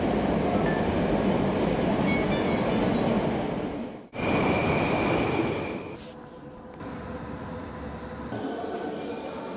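A Baku metro train rumbles along loudly with a steady roar between Ganjlik and 28 May stations, briefly cutting out, then settling into a quieter running drone.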